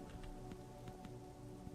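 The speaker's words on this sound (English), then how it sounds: "Is it raining? Oh, it's raining." Rain falls in a video game, a faint steady patter with scattered soft drop taps over low background hum.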